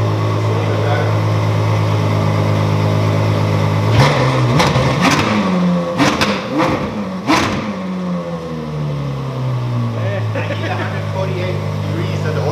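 A cold Ferrari F12 Berlinetta V12 idles with a steady low drone, then takes several quick throttle taps that rise and fall before settling back to idle. Voices talk over it.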